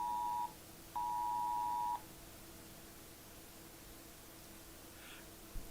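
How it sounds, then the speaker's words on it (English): An Amber Alert notification tone sounds on a phone, two loud steady electronic beeps, the first about half a second and the second about a second, then quiet room noise. "There was a Amber Alert notification."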